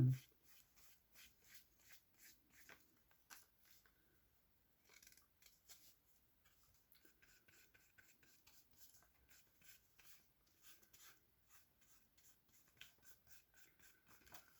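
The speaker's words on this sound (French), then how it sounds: "je commence par déchirer des morceaux du livre que je vais coller sur la page blanche" Paper pieces are torn from a book for a mixed-media collage card, giving soft, quiet ripping and rustling in short bursts with brief pauses, close up and without talk.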